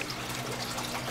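Aquarium filter pump bubbling and trickling water into a planted tank, a steady, dense wash of splashing and gurgling close by with no talking.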